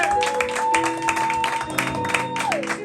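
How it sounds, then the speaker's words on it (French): Concert audience applauds a performer, a crowd of rhythmic claps and cheers under and around sustained musical tones from the stage. "Je vous demande de l'applaudir très fort."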